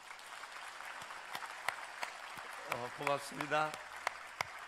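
An audience at a church youth retreat claps, a moderate sustained applause in a reverberant hall, while a voice speaks briefly over it partway through.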